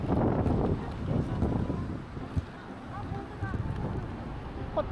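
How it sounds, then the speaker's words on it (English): Strong wind gusts steadily past the microphone during a walk through Takamatsu, Japan, between Ritsurin Garden and the station, making a constant low buffeting roar with brief faint street sounds mixed in. "The wind has become even stronger."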